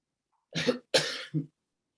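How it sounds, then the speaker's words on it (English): Three quick harsh coughs from a person with a bad cold, close to the microphone, the last one shorter and lower, with silence on either side. "if I go into another coughing jag"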